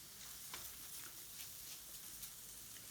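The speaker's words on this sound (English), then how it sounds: "So leave it on medium to low heat and keep stirring as I'm doing so." Spices for chicken pathia frying over medium-low heat in a pan, with a constant quiet sizzle and a few soft stirring scrapes, close and alone.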